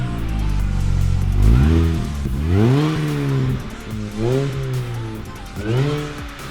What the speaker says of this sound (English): the exhaust on the Mini Cooper is sounding awesome